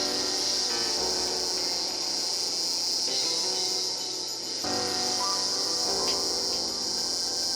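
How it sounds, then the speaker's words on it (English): Steady high-pitched insect buzzing of cicadas drones without a break throughout, with faint piano-like music shifting underneath. "Apart from the cicada sounds."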